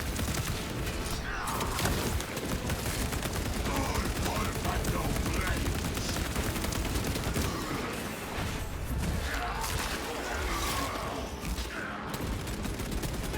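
Heavy bolter in Space Marine 2 firing without pause, a dense barrage of rapid gunfire with crashes and mechanical clatter running through the whole stretch, mixed with game noise.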